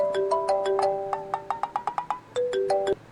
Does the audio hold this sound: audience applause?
no